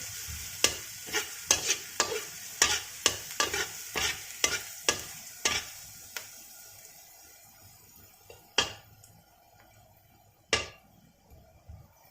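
Garlic frying in a pan until brown sizzles quietly beneath a quick run of sharp spatula clicks and scrapes, which slow to a few isolated taps later on.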